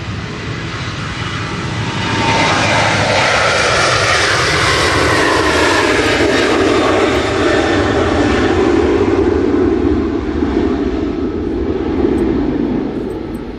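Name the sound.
British Airways Airbus A319 landing from London Heathrow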